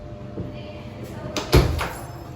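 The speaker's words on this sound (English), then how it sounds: "Here, there's a closet door." A closet door in a house is opened or closed, a few light knocks followed by one firmer thud, while people talk nearby.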